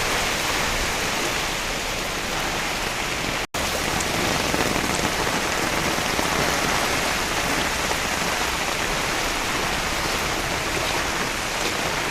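Heavy rain falls in Kayamkulam in a dense, continuous hiss of drops striking surfaces, loud and unbroken except for a split-second dropout early on, with no one speaking.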